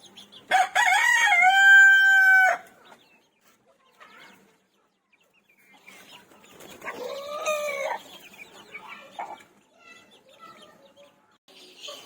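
A rooster crows loudly and close by in a long drawn call, followed later by softer clucking and a second shorter crow from chickens being moved from a rooftop, with quiet gaps between the calls.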